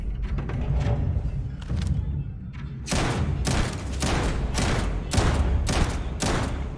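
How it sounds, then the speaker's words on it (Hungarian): Rapid gunfire from an enemy in the video game Starfield cracks in repeated sharp bursts. Scattered shots come first, then a dense volley of loud, evenly spaced reports. "Lövöldöz."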